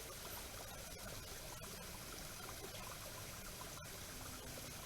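Steady broadband rush of a waterfall flowing near a volcanic area, continuous and fairly loud throughout with no pauses; faint scattered chirps may be birds in the background.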